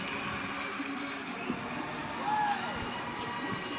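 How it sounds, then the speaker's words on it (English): High school hockey crowd at a state quarterfinal between Orchard Lake St. Mary's Prep and East Grand Rapids, a steady broad roar of voices filling the arena with a brief swell of louder cheering midway, no clear commentary on top. "And this crowd is alive and jumping."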